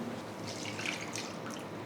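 Boiling water soaked with tamarind is poured into a Kerala-style fish curry, giving a soft, steady watery splash and trickle, quiet and brief with no talk.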